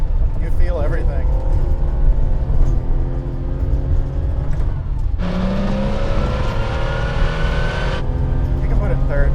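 A 1987 Porsche 911 Carrera with no power steering drives along a dirt road, its engine droning steadily inside the cabin and rising in pitch as it revs, then dropping into a new gear, with people talking over the engine throughout.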